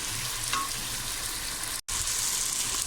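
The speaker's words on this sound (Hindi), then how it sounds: "प्याज सॉफ्ट होने तक इसको थोड़ा पकाते हैं।" Chopped onions sizzle steadily in an uncovered pan of hot oil, a close and even frying hiss with one brief dropout partway through.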